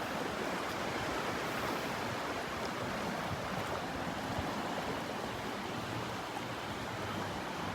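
Ocean waves on a beach in North Naples, Florida, a continuous broad wash of surf with no distinct breaks, steady and moderately soft throughout.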